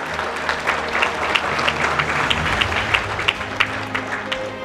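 An audience claps for itself after a motivational talk to overseas Filipino workers, a dense, sustained crowd applause with scattered sharper claps standing out, moderately loud and continuous for several seconds without speech.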